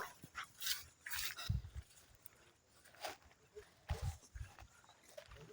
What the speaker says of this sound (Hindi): बुढ़ाऊ की कुत्ता